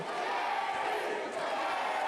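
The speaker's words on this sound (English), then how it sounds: "Crowd chanting for Larry D here." A wrestling crowd chanting in unison for Larry D during a championship match, a steady, dense roar of many voices filling the arena at a constant level.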